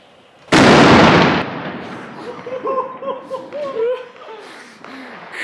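A firecracker or dynamite charge goes off outdoors with one loud, sharp blast that rings out for about a second, followed by laughter and chatter from people nearby.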